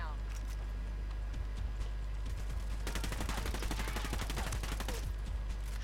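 Gunfire in the video game Ghost Recon Wildlands: a few scattered shots, then sustained rapid automatic bursts over a constant low rumble, with a voice talking over parts of it.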